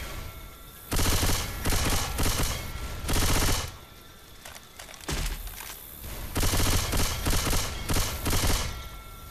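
Rapid automatic gunfire in the Left 4 Dead 2 video game, sustained bursts broken by short pauses, loud and continuous across the whole stretch with no voices.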